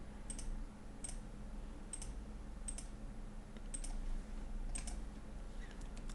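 Keys tapped on a computer keyboard while working in drawing software, a handful of separate, fairly quiet clicks spaced about a second apart over a low steady hum, including a press of Escape.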